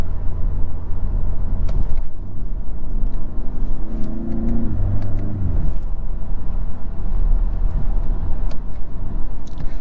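A 2023 BMW 330i accelerates hard on the road, its engine rumbling loud and close with a rising tone as it pulls through the mid-range and changes gear, over steady road and tyre noise.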